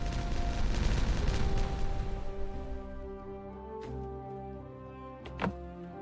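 Dynamite detonating in the beaver-colony building game Timberborn: a dense rumbling burst of blasts that fades into sustained game music, with a few sharp later cracks.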